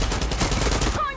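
Rapid AK rifle fire in Far Cry 6, a dense burst of shots running for about a second before cutting off abruptly.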